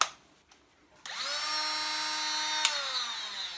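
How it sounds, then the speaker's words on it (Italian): A Parkside 12V cordless angle grinder spins up abruptly after a brief quiet moment, then holds a loud, steady high-pitched whine for a few seconds close by. "tolgo la batteria da qua, la metto nella smerigliatrice e vediamo se funziona"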